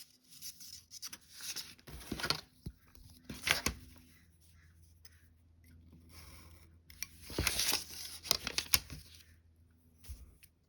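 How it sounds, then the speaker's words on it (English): X-Acto knife cutting a Z shape into a sheet of paper, faint scratchy slicing strokes in bursts with rustling of the paper between them, quiet and close. "using my X-Acto knife, I'm going to cut a Z shape like this"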